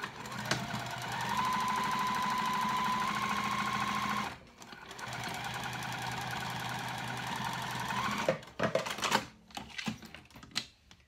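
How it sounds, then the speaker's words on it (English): A sewing machine stitches a seam on a cork dopp kit in a steady whirring run of about four seconds, pauses briefly, runs again, then stops with a few scattered clicks and handling noises. "I'm gonna sew this one at 1/4 inch seam allowance"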